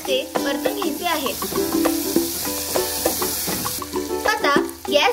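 Peanut usal sautéing with salt in a pan, a continuous sizzle under busy spoon stirring and scraping, with frequent metallic clinks and some tonal pan squeaks throughout.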